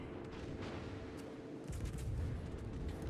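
Heavy naval guns, a battleship's 14-inch main battery in a naval combat game, boom out as a dense, rumbling salvo that swells sharply midway and holds loud to the end.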